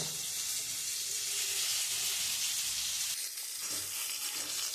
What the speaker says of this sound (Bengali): আমি প্রথমে পটলটা একটু লাল লাল করে ভেজে নেব